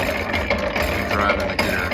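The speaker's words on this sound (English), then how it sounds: "moving the lever," A vintage blacksmith post drill runs as its hand lever is worked, giving a steady dense mechanical whir and rattle of turning gears, close and fairly loud, with no pauses.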